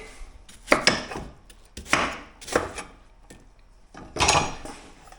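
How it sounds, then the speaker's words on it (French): Knife chopping apples into pieces on a board for compote, a series of crisp close cutting knocks in an uneven rhythm with quiet gaps between, no voices. "Ensuite, je les coupe en morceaux."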